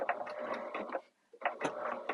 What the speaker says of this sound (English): and then sew the other half down.